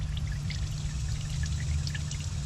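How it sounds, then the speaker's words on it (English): Transmission fluid drains in a steady stream from a 2011 Toyota Sienna, a constant close pouring trickle with faint drips and no voices. "once this drains, you could throw this back in there"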